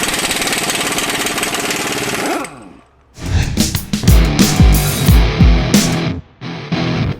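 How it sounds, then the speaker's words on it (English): Myers MTS53371 half-inch extended-anvil air impact wrench: a steady loud pneumatic whine winds down, then after a brief pause a series of harsh hammering bursts follows, close and loud. "this is an air impact wrench or a pneumatic impact wrench"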